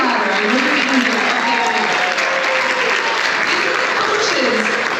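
Crowd at a volleyball hall of fame and excellence awards gala applauding and cheering loudly and continuously, dense clapping with whoops and voices mixed in throughout.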